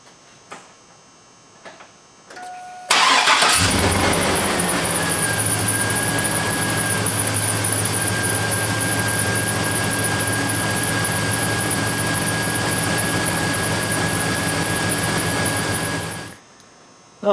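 Chevrolet Silverado 5.3 V8 pickup with a belt squeal fires up after a brief crank, then idles loudly and steadily for about thirteen seconds, a sustained high squeal riding over the engine drone before it shuts off.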